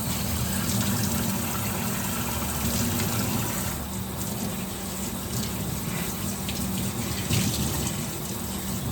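Wet tie-dyed shirts wrung out by hand under running water, a continuous close splashing and pouring rush with dripping, steady and loud throughout.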